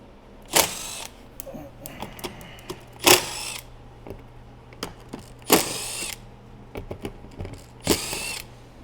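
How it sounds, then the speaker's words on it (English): Electric impact driver with an 8mm shallow socket removing bolts from a Harbor Freight Predator 9500 generator, in several loud, short hammering bursts separated by quieter clinks and handling noises. "To make quick work of things, I'll use this electric impact."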